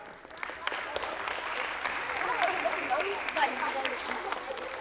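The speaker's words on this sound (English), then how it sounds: "Give them a clap." Primary school children clapping for the winning team at an entrepreneurs challenge, a lively patter of many small hands with a few voices mixed in, building slightly toward the end.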